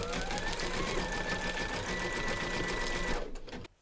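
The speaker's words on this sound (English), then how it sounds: "we're now going to stitch the mouth, so load your matching bobbin and thread colour for the mouth into your machine." An embroidery sewing machine stitching a mouth in flesh pink thread runs loud and close with a steady, fast mechanical whir and faint tonal hum, then stops abruptly near the end.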